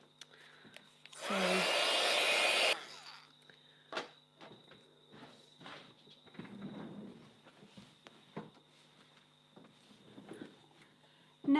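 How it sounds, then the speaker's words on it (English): A heat gun drying paint on a gelli-printed art journal page blows with a loud, steady broadband rush for about a second and a half, then stops, followed by quieter handling noises and small taps. "I'm just going to take my heat gun and dry it off a little"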